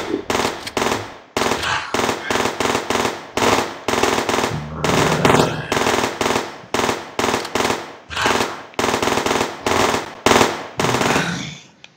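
Rapid bursts of automatic gunfire from marines firing at enemies in the video game Zombie Defence, with loud, repeated volleys separated by short gaps throughout.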